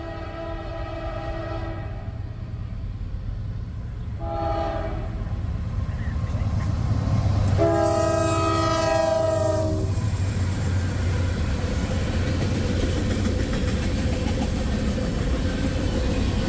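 A passing freight train sounds its horn in several chord blasts, the last one long and loud, over a steady rumble of rolling railcars close by.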